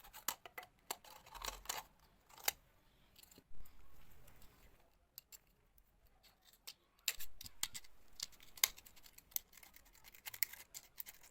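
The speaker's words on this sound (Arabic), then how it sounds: "برضو هنفتح ثقب صغير كده ونقص منه بالمقص الازازة داير ما يدور كده" Scissors cutting around a plastic bottle, quiet crisp snips and crinkling scratches in irregular bursts, close and faint, with a short pause midway.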